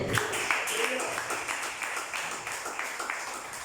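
A church congregation claps steadily at a Spanish-language service, a broad patter of many hands continuing throughout while voices carry over it.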